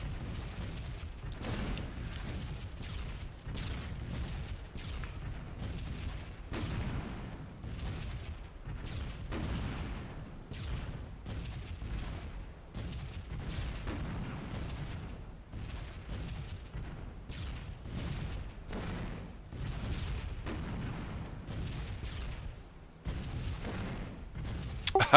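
Bombs dropped in a bomb run explode in a long series of dull, rumbling booms and blasts, some overlapping, heard at a distance as a continuous barrage without talk.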